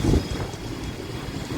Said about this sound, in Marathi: नुसती धूळ उडते आणि वारा सुटला नुसता.